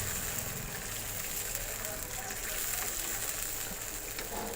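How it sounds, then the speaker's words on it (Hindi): Boiled chickpea stock is poured into a simmering gravy for green chickpeas, giving a steady, close hiss and gush of liquid that runs unbroken throughout. "अब मैं इसमें डाल दूँगी यखनी जो मैंने चने बॉईल किए थे, ताकि सारा फ्लेवर चनों का ग्रेवी में आ जाए"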